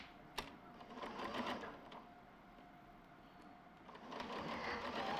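A sewing machine stitches fabric for a maxi dress in a steady mechanical whir with a faint click at the start, its pace swelling and easing over several seconds.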